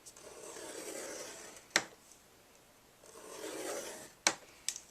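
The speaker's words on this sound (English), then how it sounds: "I'm going to go ahead and score at 1/2 inch mark" Paper being scored with a scoring tool on an Ultimate Tool board at a half-inch mark for a custom 3D treat box: two long soft rasping strokes, each ending in a sharp tap, plus a few small clicks, close and quiet.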